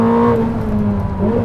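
Ferrari SF90 XX road car driven flat out at Fiorano, its engine a loud, steady sustained drone with a rising harmonic whine through the short run, close and alone without talk.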